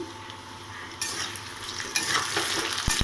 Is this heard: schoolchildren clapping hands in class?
no